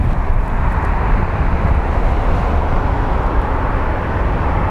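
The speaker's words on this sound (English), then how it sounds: "And up next we have another United Airlines that is going to be departing somewhere." A United Airlines jet airliner departing from Phoenix Sky Harbor International Airport gives a dense, continuous roar that holds steady throughout, with wind buffeting the microphone.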